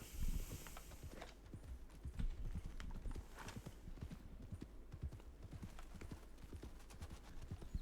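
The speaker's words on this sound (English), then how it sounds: "It's a mule." Mule hooves clip-clop steadily in Red Dead Redemption 2, a continuous run of close, even hoofbeats over a low ambient rumble, with no voices.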